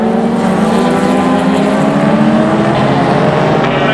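Spec Miata race cars roaring around Mission Raceway, a loud, continuous engine drone with steady rising harmonic tones as they pass close by, no voices over it.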